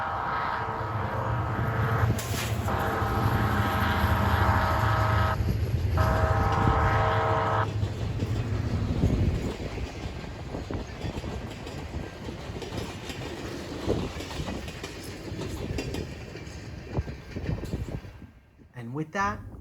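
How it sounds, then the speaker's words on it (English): Southbound Alaska Railroad Denali Explorer passenger train rolling through a town, a loud rumble with horn-like tones early on that fades into lighter rattling clatter as the cars pass and recede. "the southbound Denali Explorer was coming through town"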